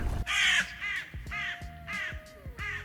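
A monstrous crow creature in the horror game Fear and Hunger lets out a series of harsh, rasping caws, about five in a rough rhythm, loud and close with brief pauses between calls.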